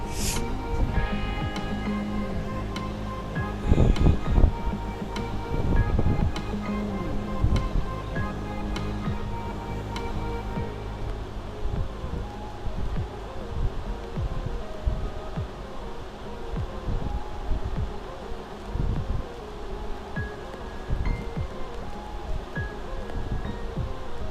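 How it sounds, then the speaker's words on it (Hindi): Potato pieces fry lightly in oil in a home-kitchen pan while an aloo anda gravy is being prepared, giving a steady, close sizzle that crackles continuously for the whole stretch. "आलूओं को हम हल्का सा फ्राई कर लेंगे"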